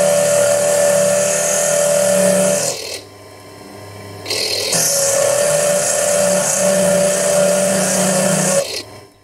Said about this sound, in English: The drill didn't seem to need much downward force at all and made pretty good pace cutting into the granite